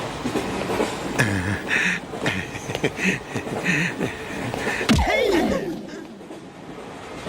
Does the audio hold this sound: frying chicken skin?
no